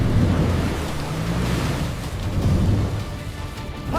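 A thunderstorm pours heavy rain in a constant wash while low thunder rumbles and rolls underneath, loud and close.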